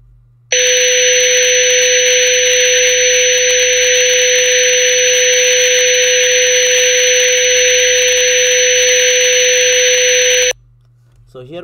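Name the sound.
test tone corrupted with noise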